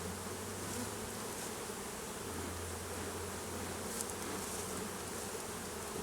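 Many honey bees buzz continuously around the listener, a dense, even droning hum with individual insects passing close now and then.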